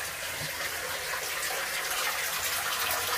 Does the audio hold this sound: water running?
yes